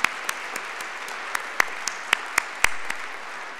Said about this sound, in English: Let us give a round of applause for TERP Vets, the Army ROTC, and our University of Maryland's commitment to veterans.